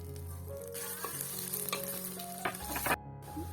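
Chopped onions and green chillies fry in hot oil alongside bay leaves, giving a loud, continuous sizzle with a few stirring scrapes and a brief break near the end.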